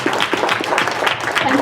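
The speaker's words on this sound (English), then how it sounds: "I'd like to give us a big round of applause for our volunteers today." Audience clapping for volunteers at the close of a stage hypnosis show at a furry convention, a short stretch of scattered, moderately loud applause with no clear voices.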